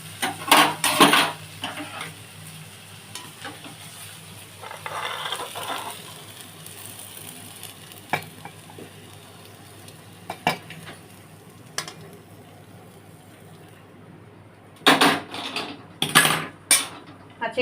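Lightly fried eggplant is poured out of a wok, heard as loud clanks and scrapes of metal utensils against the pan, coming in bursts with quieter kitchen background between them.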